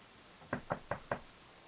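Four evenly spaced knocks land on a door, crisp and close, each a short hollow rap with quiet room tone between them.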